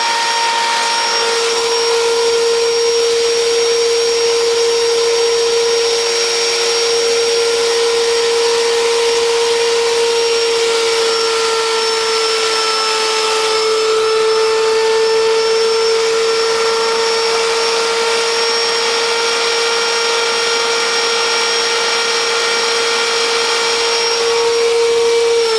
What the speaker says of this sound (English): That's our brand new table router.